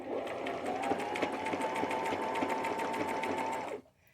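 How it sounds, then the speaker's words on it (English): Sewing machine running a continuous zigzag stitch around the edge of a scrap piece of fabric, a steady rapid whirring with rhythmic needle ticks for about four seconds before stopping abruptly. "So what I'm going to do is just give that a zigzag stitch all the way around."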